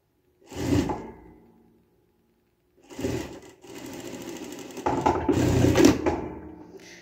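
A sewing machine stitches the leg seam of a baby romper in three separate runs: one short burst, then a longer stretch that pauses briefly before a final steady run. The sound is close and mechanical, with no talking.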